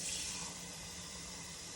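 Water runs slowly and steadily into a stone mold powder mix, a close, continuous hissing gush of liquid that eases slightly after the first moment, with no voices.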